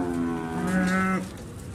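A cow at a livestock market of cattle ready for slaughter gives one loud, close, drawn-out moo that fades near the end.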